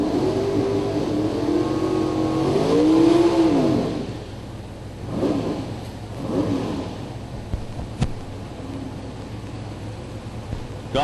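A 1997 Pontiac drag race car with a Pontiac engine revs at a drag strip event. The engine rises to a strong swell, then drops back to a lower rumble that surges again in shorter bursts, all set against a steady noisy background.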